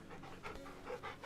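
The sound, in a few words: dog panting while being petted in Final Fantasy XVI video game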